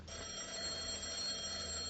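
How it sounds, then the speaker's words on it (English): A telephone rings faintly and continuously in an indoor radio-drama setting, a steady bell tone with no voices. "there goes the phone"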